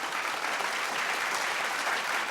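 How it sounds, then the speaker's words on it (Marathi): Steady applause from a studio audience for the winners of a Marathi women's TV game show, dense even clapping that holds throughout at close range. "जोरदार टाळ्या झाल्या पाहिजेत"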